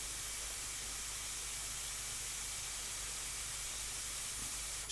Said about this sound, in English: getting this heat gun and just melting the plastic